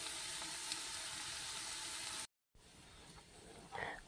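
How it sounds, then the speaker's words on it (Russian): Steady sizzling of zucchini and potato pancakes frying in a pan, a quiet hiss broken by a brief gap, then softer crackling. "И уже жарим вторую порцию."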